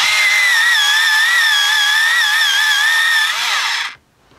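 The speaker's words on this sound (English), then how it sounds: "I'm going to sharpen, so it's going to be loud." An electric pencil sharpener grinds a colored pencil with a loud, continuous high-pitched whine that wavers slightly for about four seconds, then stops abruptly into near silence.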